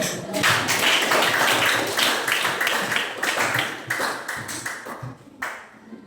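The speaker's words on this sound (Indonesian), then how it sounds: "mari kita beri tepuk tangan" A classroom of students claps for a group that has just presented, a dense burst of hand claps that thins out toward the end, close and fairly loud.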